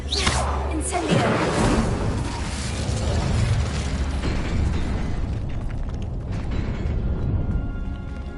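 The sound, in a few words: Incendio fire spell cast, from a video game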